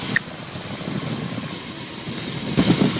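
A microlight aircraft engine runs steadily while the plane taxis, a loud close droning hum that rises in intensity near the end, with no talking.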